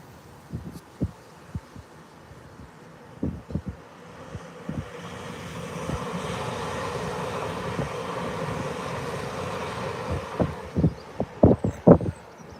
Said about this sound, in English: I've got a northern train approaching, a class 331.